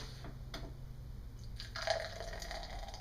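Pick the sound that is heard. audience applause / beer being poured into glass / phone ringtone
beer being poured into glass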